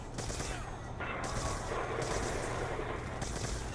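Video game gunfire goes off as a steady, dense stream of shots and blasts that stays loud through the whole stretch, with faint talk underneath.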